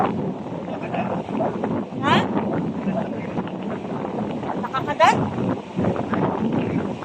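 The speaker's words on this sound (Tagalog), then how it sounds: "Sobrang lakas po ng hangin." Strong wind buffets the microphone in a steady low roar, with a person speaking briefly over it and a couple of short high squeaks.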